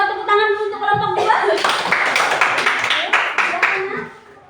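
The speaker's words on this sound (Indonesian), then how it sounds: "tepuk tangan dulu untuk kelompok 2" Classroom of students applauding a student group, a burst of scattered clapping from many hands that follows a teacher's voice and fades out over a few seconds.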